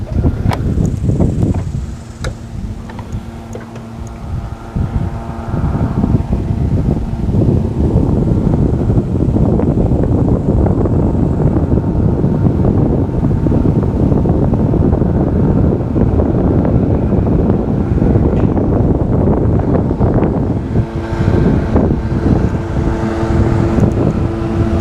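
Steady, loud wind buffets the microphone outdoors during fly fishing, a continuous broadband rush with gusty swells that persists throughout, with no talking.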